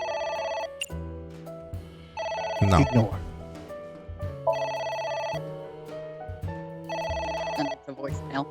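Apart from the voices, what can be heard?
telephone ringing, from the video game AI: The Somnium Files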